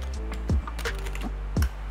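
Gaming keyboard keys clicking, two sharp separate clicks with other faint taps, over a low steady hum.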